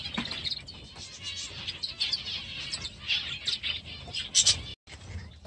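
Zebra finches in an aviary give many high, quick chirps and tweets that overlap in a busy, continuous chatter, with a few louder bursts near the end and a brief moment of silence.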